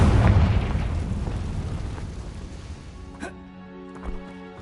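A Confringo spell blast in Hogwarts Legacy, a loud booming burst at the start that rumbles and fades over a few seconds, followed by a sharp crackle and faint tonal chimes as the echo dies away.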